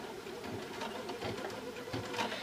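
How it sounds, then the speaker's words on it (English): A Baby Lock Sashiko sewing machine runs while quilting, a soft steady mechanical whir with a faint rhythmic stitching pulse, quiet and close. "And now I'm going to go ahead and start quilting."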